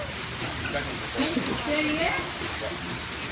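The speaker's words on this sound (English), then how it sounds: "It's raining and we're gonna go in the rain." Steady rain falls outdoors as a dense, even hiss, while people talk over it.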